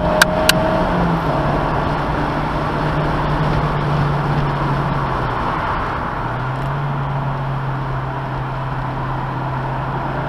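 Car engine and road noise holding a steady low drone throughout as the driver rolls on the throttle during track instruction, pitch climbing slightly midway with no talk over it.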